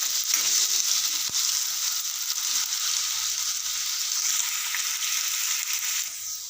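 Potatoes frying in a pan for a Gujarati potato dish, a steady close hissing sizzle holding evenly throughout with faint stirring clinks and no talk.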